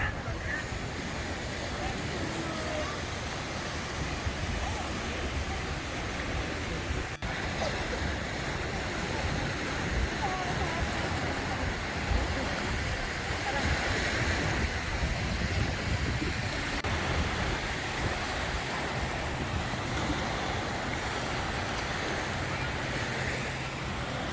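Steady wash of surf at White Beach, Boracay, with broadband wind noise buffeting the microphone throughout and no distinct breaks between waves.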